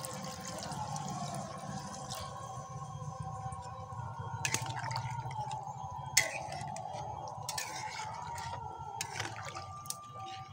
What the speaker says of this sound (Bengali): কিছুক্ষণ তরকারিটা ফুটিয়ে নিয়েছি